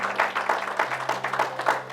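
Church congregation claps in praise to the Lord, a steady rhythmic burst of many hands clapping together over a low hum, moderately close and fairly quiet.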